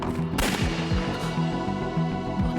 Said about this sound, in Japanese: また銃声だ。